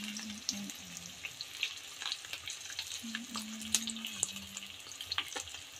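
Eggplant and okra fry in a pan with a steady close sizzle, joined by scattered stirring clicks and a faint running-water background, with no talk over it.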